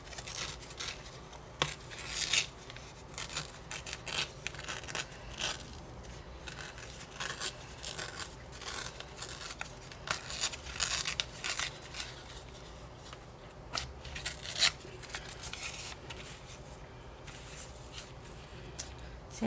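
Fancy decorative-edge scissors cutting journal paper with a steady run of crisp snips and rustles, close and continuous, with no talking.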